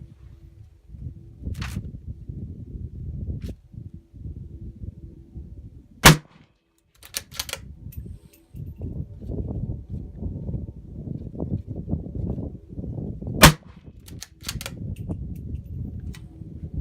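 Two sharp, loud unsuppressed gunshots from a 17 HMR rimfire rifle crack about seven seconds apart, each a sudden broadband spike standing out over a steady low rumble of outdoor background noise.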